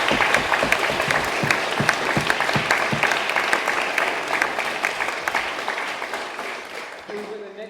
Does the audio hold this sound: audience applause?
yes